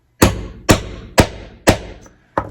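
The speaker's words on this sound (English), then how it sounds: "but I'm going to hammer this real quick." A hammer strikes a setter to bend and set a rainbow card guard, five loud, sharp, close blows at an even pace with a short pause before the last, each ringing off briefly, with no talk.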